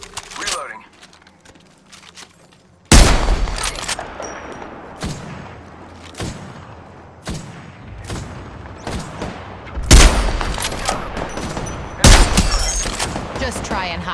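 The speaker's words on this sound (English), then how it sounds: "Getting shot at. They're shooting at me." In Apex Legends, gunfire cracks out in a series of sharp, loud shots and short bursts, spaced irregularly and some closer and louder than others, with a voice talking between and over the shots.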